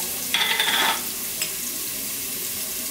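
Red pepper sautéing in a pan for a Macedonian cabbage stew gives a short burst of loud, bright sizzling, then quieter frying and a brief clink. No one speaks.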